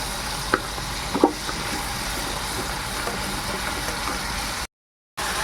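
Paneer masala frying in oil with half a spoon of garlic paste, a steady close sizzle with a few sharp stirring knocks near the start, then a brief dropout before the sizzle resumes.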